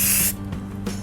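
White chalk paint sprayed from an aerosol can onto a vase in a light coat, a loud short hiss that cuts off, then a second brief burst near the end.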